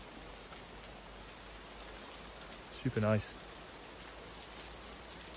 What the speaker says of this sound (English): other than sort of light speckles of rain, it's pretty quiet